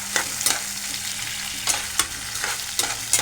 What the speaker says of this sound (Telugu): బాగా ఎర్రగా వేగేదాకా కలబెట్టుకోవాలి